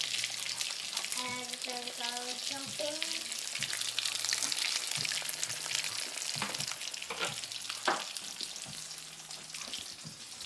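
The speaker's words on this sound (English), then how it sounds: "let me just show you this real quick how we fry them" Chicken tacos fry in hot oil with a steady close sizzle and crackle, punctuated by scraping and bumps from utensils, while someone speaks briefly over it.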